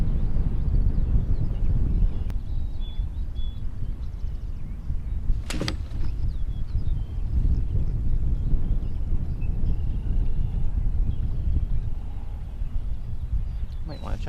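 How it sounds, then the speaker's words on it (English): Wind buffets a small fishing boat drifting on a lake, a steady low rumble and roar across the whole stretch with a brief sharp knock partway through; no speech is heard over it. "I think the wind just picked up."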